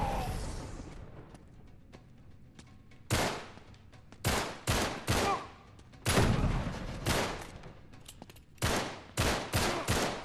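Gunfire in the Uncharted 3 video game on PS4: a series of loud, sharp blasts and bursts spread across the scene, rising out of a quieter, rumbling start.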